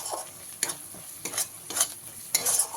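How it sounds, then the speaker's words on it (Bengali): Chicken pieces fry in a pan with ground white and black pepper. A soft, continuous sizzle is broken by several distinct spatula strokes at irregular intervals, heard close and fairly quiet with no voices. "এবারে ভালো করে ভেজে নিতে হবে"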